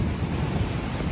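Cold rain pours down in a dense, loud, continuous roar with deep low rumble, steady throughout and with no voices.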